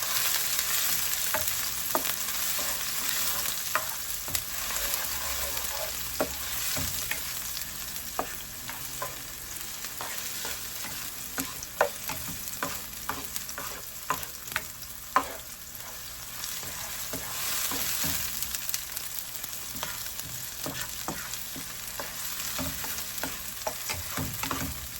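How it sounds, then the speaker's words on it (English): Pork tongue sautéing in vegetable oil, a steady loud sizzle running throughout with frequent sharp pops and clicks of stirring scattered across it, no voices. "And that was a nice saute."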